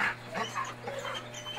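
Several shelter dogs in a rescue setting yelping and whimpering in quick, overlapping bursts, fairly close, with a steady low hum underneath.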